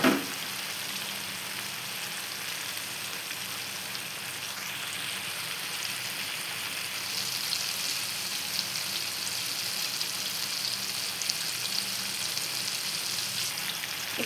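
Tomatoes frying in a pan while making petai sambal with anchovies, a steady, close, even sizzle that continues without break for the whole stretch, with no talk over it.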